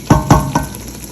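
Mutton and spinach frying (bhunai) in a pot for palak gosht, three quick close scraping stirs over a loud sizzle that carries on between strokes, no voices.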